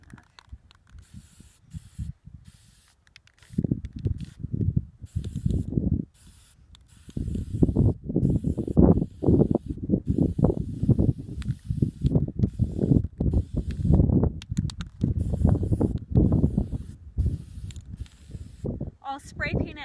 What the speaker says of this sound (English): I'll spray paint it all from this angle